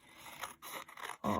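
Scissors cutting through glued paper to trim a junk journal slot pocket, heard close up as a few short crisp scraping snips with brief pauses between them.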